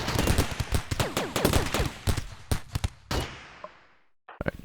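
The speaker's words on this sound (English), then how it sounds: "they get slaughtered by my gunfire" Rapid bursts of gunfire in the video game Rimworld during a raider assault on a military base, dense volleys of sharp shots that thin out into scattered single cracks and a short final burst.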